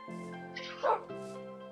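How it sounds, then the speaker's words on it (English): Dogs in a video game neighborhood give a few soft, short barks and yips over steady background game music, moderately quiet and brief. "her dogs seem to hang around this area here"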